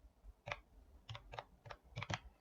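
Keys clicked on a computer keyboard while entering an OTP, a sparse run of about seven light taps, some in quick pairs, close and quiet with no talk.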